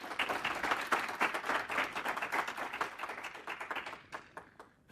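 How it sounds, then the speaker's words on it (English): An audience claps for the presenter Sherri at a MySQL and Nagios tech talk, a lively burst of applause that thins out to a few scattered claps at the end. "So everybody give a big round of applause to Sherri here."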